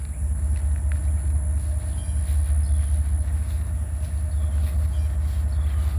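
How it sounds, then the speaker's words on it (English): Abbeville switcher locomotive coming down the track, a deep continuous engine drone and rail rumble, loud and steady with faint clanks above it. "Sounds like we got a train coming down. Sounds like Abbeville switcher coming in."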